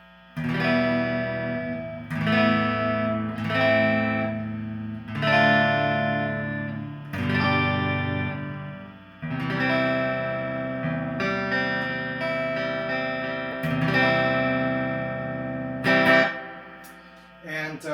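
G&L Legacy USA electric guitar played through its neck pickup, ringing chords and notes with a clean, lightly effected tone and reverb tails, strummed in phrases with brief gaps, close and fairly loud.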